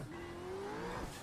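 Supercar engine in the iRacing sim, a loud steady tone rising slowly in pitch as the car accelerates, with tire noise underneath throughout the short stretch.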